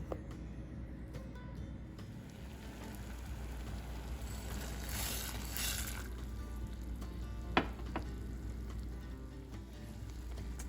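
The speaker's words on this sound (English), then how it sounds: "we've got our lentils at a rolling boil here" A pot of lentils bubbles and hisses at a steady rolling boil, a constant low churning wash with an occasional faint clink.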